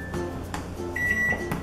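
Microwave oven control buttons pressed, giving short steady electronic beeps, one early and a longer tone later, over a low constant background hum with no talk.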